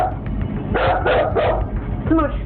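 A dog barks a few times in short bursts, fairly close, amid household background noise, with a person's voice nearby.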